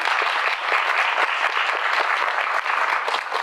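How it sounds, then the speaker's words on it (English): An audience at a roundtable in Atlanta's Central Library claps to welcome a panelist, a dense, even burst of many hands close and loud, holding steady throughout with a small dip near the end. "We'll give him a nice little clap."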